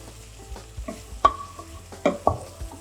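Softening vegetables for a pasta sauce cooking in a pan, a low gentle sizzle broken by a few sharp scraping knocks of a utensil against the pan as they are stirred, close and without talk.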